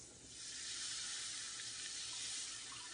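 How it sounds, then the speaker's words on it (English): Two cups of milk pour into a pan of browned sausage for a casserole, a soft, steady hissing stream that runs continuously without any talking. "I'm going to start adding 2 cups of milk"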